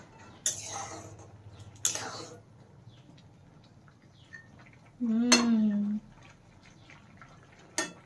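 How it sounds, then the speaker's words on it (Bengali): A metal lid comes off a pot of boiled corn with a few clanks and clinks and a brief ringing scrape, spaced apart with quiet gaps and a voice nearby. "তো আমরা ঢাকনাটা খুলে দেখবো কতটা কি হয়েছে"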